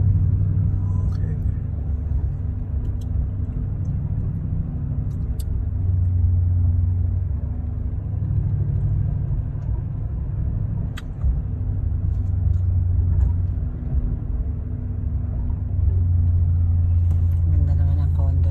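Road traffic rumbles steadily near the Duluth lift bridge on Lake Superior in Minnesota, with cars passing close by as a continuous low drone, and people talk faintly underneath.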